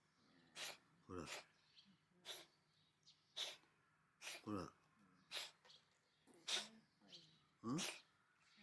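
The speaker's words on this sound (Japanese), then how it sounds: "これくしゃみなの？" A stray cat sneezes repeatedly outdoors after rain, a series of sharp, fairly faint sneezes at roughly one-second intervals, with a person speaking softly between them.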